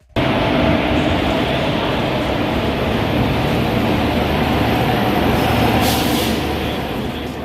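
Tirupati Weekly Superfast Express train running, a loud continuous rumble and roar of the moving coaches heard from on board, steady throughout with no talk.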